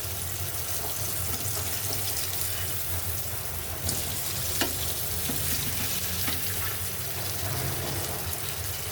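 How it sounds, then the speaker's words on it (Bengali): Eggplant slices fry in a shallow pan of oil with a steady, dense sizzle. The hiss runs continuously throughout, broken by a few faint clicks and scrapes as the slices are turned. "এইভাবে উল্টিয়ে পাল্টিয়ে আমরা বেগুনটা ভাজি করব"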